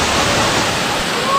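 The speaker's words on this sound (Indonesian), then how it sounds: "Nih, aliran sungai dari Lubuk Minturun." A flooded river current rushes past a broken bridge after a flash flood at Lubuk Minturun, Padang, in a loud, close, steady roar of water that fills the whole stretch.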